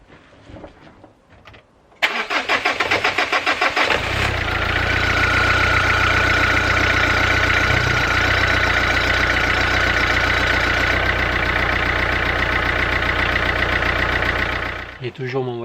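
A car engine cranks and catches after a quiet start, then settles into a loud, steady idle with a rough, persistent noise, while the injection warning light stays on.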